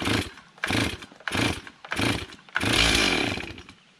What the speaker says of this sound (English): this saw's totally cold, so let's go ahead and hit the decompression release, put the choke on, and start pulling